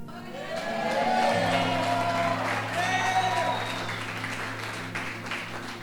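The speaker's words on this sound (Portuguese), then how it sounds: "vai aplaudir o Espírito Santo" A church congregation applauding during worship, a swelling burst of clapping mixed with cheers and whoops, with voices calling out and a sustained musical tone underneath.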